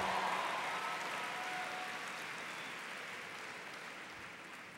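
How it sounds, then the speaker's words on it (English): A large conference audience applauds the Green for All team at a youth climate gathering, a broad wash of clapping that starts full and slowly fades over several seconds with no talking. "Give them a round of applause."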